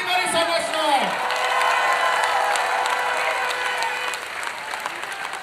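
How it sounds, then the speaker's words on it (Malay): A large crowd at a Barisan Nasional youth rally in Malaysia breaks into loud, sustained applause right after a brief voice, the clapping swelling and then gradually thinning. "saya ingin sekali lagi kita bagi tepukan yang sangat gemuruh kepada"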